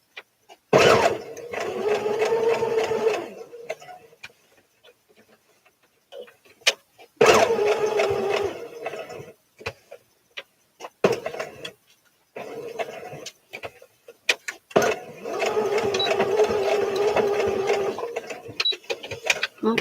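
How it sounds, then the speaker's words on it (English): A sewing machine runs in three sustained bursts, stitching along the crocheted edge of a doily with matching thread, with quiet pauses between the runs. "So I'm just kind of stitching like right on the other side of"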